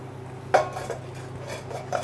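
Metal cake tin set down into a preheated covered kadhai, giving a sharp clank followed by lighter scraping knocks of metal on metal, close and clear with no talking.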